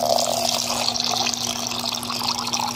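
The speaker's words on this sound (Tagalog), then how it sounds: "Tapos lagyan na natin ng tubig" Tap water runs steadily into a container during Daphnia culture preparation, a constant splashing stream that fills the whole moment without speech.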